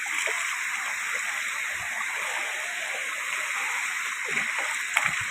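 Water flows steadily along a stream at night during crab catching, a constant broad rushing and gurgling close by with occasional small splashes, no voices.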